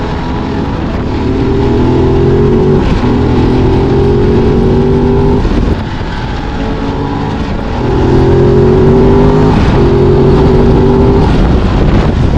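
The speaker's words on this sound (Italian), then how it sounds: "Ora vi faccio sentire un po' come suona lo scarico originale." Ducati Desert X motorcycle on its stock exhaust during a road test, engine revving loud and close in repeated rising pulls with brief dips between them, under a layer of wind noise.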